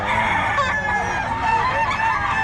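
Roosters crowing at a market, close and loud, with overlapping drawn-out crows from several birds filling the whole moment.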